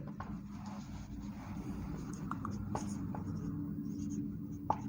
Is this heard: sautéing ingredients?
no